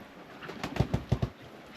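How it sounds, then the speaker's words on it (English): A pigeon aboard a boat gives a short run of four soft, low coos in quick succession, close by, over a faint background hum. "How am I supposed to get a bird out of my boat without freaking it out?"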